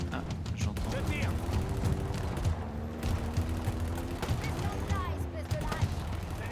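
Rapid, repeated gunfire bursts and booming impacts in the shooter video game Halo Infinite run continuously, with game voices and talking mixed in throughout.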